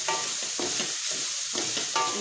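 Mushrooms are stirred in a hot pan for a mushroom potato masala, rhythmic close scraping strokes over a constant sizzle, with no talking.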